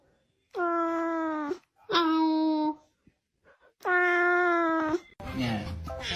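A cat meows three times in long, drawn-out, tonal calls separated by short pauses, close and clear, with a burst of other noise at the end.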